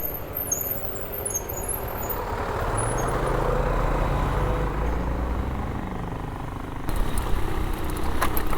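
A big truck rumbles past close by at a bridge on a rural Colombian trail, its engine swelling and fading over several seconds amid steady road and wind noise.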